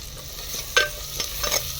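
Ginger-garlic paste and green garlic sautéing in a pot of dal tempering over a desi wood-fired chulha, giving a low steady sizzle with a few stirring scrapes near the start and end; no one speaks.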